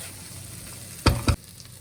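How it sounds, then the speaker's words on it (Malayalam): Ginger garlic paste fries quietly in a pan for Thalassery dum biryani, a soft steady sizzle broken by two sharp, loud scraping stirs close up. "ആ ജിഞ്ചർ ഗാർലിക് പേസ്റ്റിൻ്റെ റോ ഫ്ലേവർ പോകുന്നത് നല്ല നമുക്കൊന്ന് ഫ്രൈ ചെയ്തെടുക്കാം"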